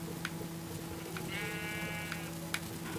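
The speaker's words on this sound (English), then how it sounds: "Hello, sheep." A sheep bleats once in a video game, a short wavering cry heard over a steady low hum and scattered soft clicks, moderately close, with no talking.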